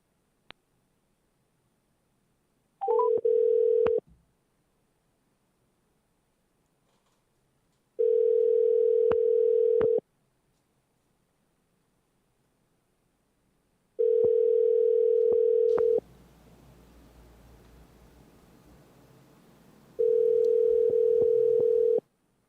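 A telephone ringback tone sounds during an outgoing call, four steady, loud, even tones separated by long silent gaps, with a faint noisy stretch in one gap and no talk.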